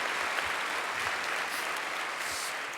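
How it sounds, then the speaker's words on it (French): A large audience at the Séries Mania closing ceremony applauds in a steady, distant-sounding wash of clapping, fairly quiet but continuous for about three seconds. "Non, il faut laisser applaudir."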